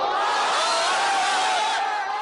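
A large crowd of supporters in Mosul roars in a dense, continuous wall of shouting and cheering voices, loud and unbroken throughout.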